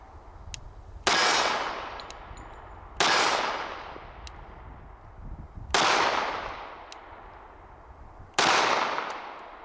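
Four loud, single pistol shots from a SIG Sauer Spartan II Carry 1911, spaced a few seconds apart, each a sharp crack with a ringing decay, heard outdoors at close range with no talking.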